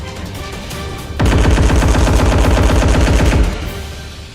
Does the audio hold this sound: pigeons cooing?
no